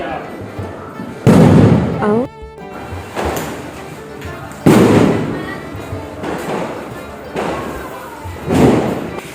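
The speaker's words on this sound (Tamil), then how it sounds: "வாங்க வெடியை போட்டாகணும்னு மழையும் பொருட்படுத்தாம ஸ்பார்க்கிள்ஸ் பண்ணியாச்சு." Several sharp, loud firecracker bangs burst at intervals during a rainy Diwali, each followed by a crackling tail, with people talking between the blasts.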